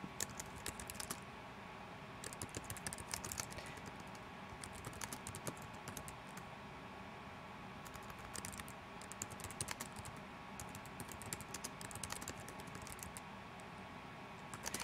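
Someone types an assignment name on a computer keyboard in Edmodo, producing faint, steady clicking keystrokes in quick bursts with brief pauses, close to the microphone in a quiet room.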